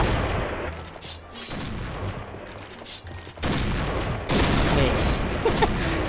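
Sniper rifle gunfire in a first-person shooter game, likely a Barrett, with sharp shots cracking over a steady game backdrop while a player talks throughout.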